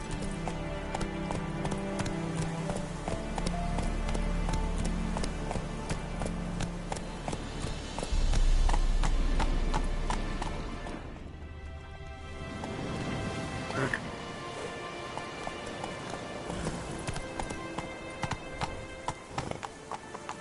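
Hooves clip-clop at a fast gallop as a horse carries its rider across the world of The Witcher 3 video game, steady and close, with a brief whinny and game ambience layered around.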